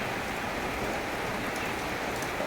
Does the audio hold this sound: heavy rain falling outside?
yes